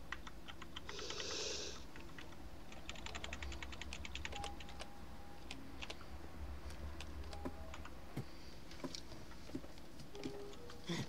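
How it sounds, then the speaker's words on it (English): Someone types quickly on a computer keyboard during a Minecraft minigame, and the close, soft key clicks patter in irregular runs over a steady background hum. "I need to type things!"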